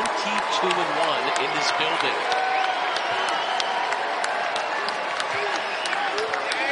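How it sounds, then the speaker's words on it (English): A college basketball arena crowd in a Texas versus Houston Christian game cheers and applauds loudly and continuously, with sneaker squeaks and a commentator talking over the noise. "the crowd starting to rise to their feet"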